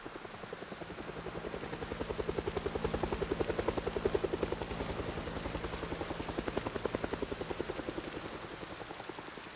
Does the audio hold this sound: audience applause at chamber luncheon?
no